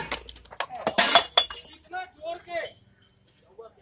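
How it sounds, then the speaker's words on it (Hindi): A mobile phone drops and hits the ground outdoors, giving a sharp clattering, glassy impact close by, followed by people talking. "मोबाइल गिर गया, मुझे क्या पता मोबाइल भी गिर जाएगा"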